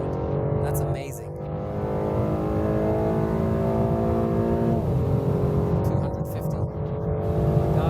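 A 680-horsepower production car accelerates hard on the Autobahn, its engine droning loudly and steadily as the pitch climbs through the gears, with a brief shift dip partway through and a voice speaking over it.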